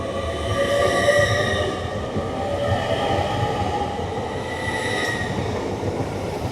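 Hull Trains class 802 unit Amy Johnson running through Retford on the East Coast Main Line, a loud close passing rumble with tonal wheel squeal and whine sustained across the pass.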